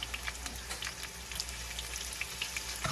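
White onion hits a hot pan and sizzles softly, with scattered crackles and light scraping as it is stirred, close but fairly faint and continuous with no voices.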